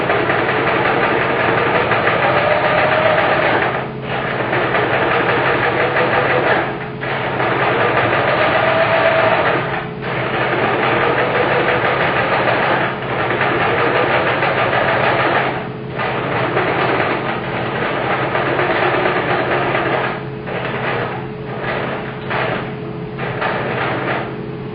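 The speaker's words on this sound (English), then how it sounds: "So I've got my needle in here and we're just going to start sewing down the leg." A sewing machine runs continuously while stitching down the leg of a sock monkey, a loud close motor hum and rapid needle rattle broken by several brief stops and restarts.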